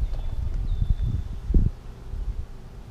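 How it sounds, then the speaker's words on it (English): Horses move nearby on an outdoor farm, their hoof clip-clops and shuffling steps arriving as several soft, irregular thuds over light wind and rustling. "There's our horses."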